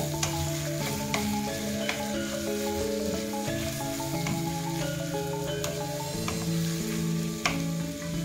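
Continuous sizzling of tomatoes and other ingredients frying in a pan for selat solo, with scraping stir sounds and a steady tonal hum underneath.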